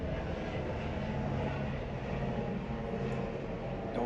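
An airplane flies overhead, producing a steady, moderately loud broadband engine drone that holds constant throughout without talk.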